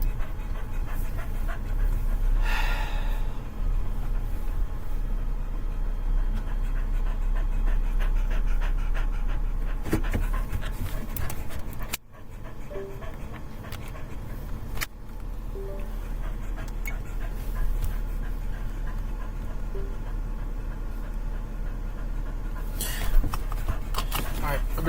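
A dog pants steadily and rhythmically close by through the whole stretch, over a constant low rumbling background hum, with a few brief clicks and knocks; no one talks.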